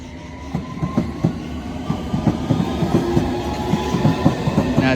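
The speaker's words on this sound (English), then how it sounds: "Off that one goes to Shumeness" A London Underground District line train departs Barking station, wheels beating a steady clickety-clack rhythm over the rail joints at moderate loudness, with a faint squeal near the end and no talk.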